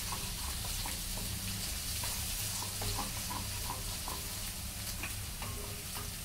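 Grated ginger sizzles and crackles steadily in a hot pan for Manchow soup, with a dense, continuous frying hiss and occasional pops.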